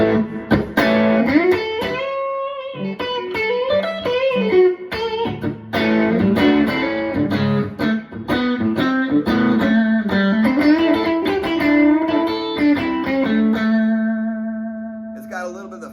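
A Godin Stadium 59 electric guitar with single-coil pickups, through overdrive, plays a bluesy lead line with bends and sustained notes, gritty and loud, ending on a held ringing chord.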